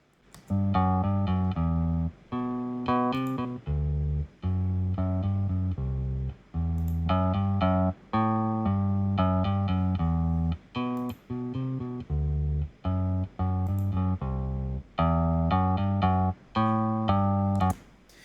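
A bass guitar plays a repeating riff, its tone shifting between a clean sound and a grittier, driven one as an overdrive effect switches off and on.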